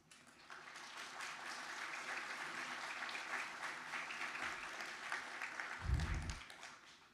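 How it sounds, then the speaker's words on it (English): An audience at a donor dedication ceremony breaks into applause, rising quickly and holding as a fairly soft, steady clapping wash, with a low thump near the end. "let's give her a round of applause"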